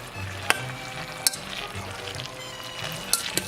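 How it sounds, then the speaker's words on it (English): An egg mixture is stirred into drained macaroni for a macaroni pie, giving soft wet squelching and scraping with a few sharp utensil clinks against the pot, close and moderately quiet. "I'm adding our concoction with the egg"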